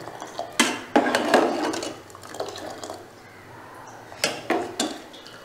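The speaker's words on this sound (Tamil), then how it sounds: "இது கூடவே மஞ்சத்தூள் சேர்த்து கொஞ்சம் கலக்கிடுறேன்." A pot of roasted gram soup with turmeric is stirred with a utensil, giving a few sharp metallic scrapes and clinks against the pot in irregular bursts over a soft bubbling background.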